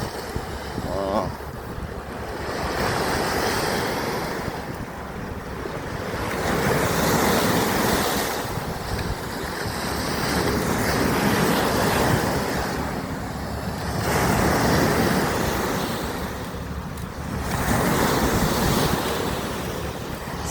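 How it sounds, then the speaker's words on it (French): Waves slap against rocks on the shore of Lake Garda at sunrise, surging and receding in slow swells with steady wind rumble against the microphone. "ce bruit là, des vagues qui tapent sur le rocher"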